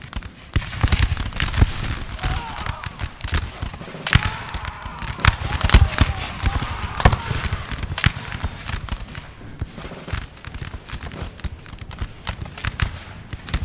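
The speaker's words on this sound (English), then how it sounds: "that artillery firing there" Artillery fire in a Napoleon: Total War multiplayer battle, a Russian hill defence, with repeated sharp booms and cracks scattered over continuous battle noise, some blasts loud and close and others more distant.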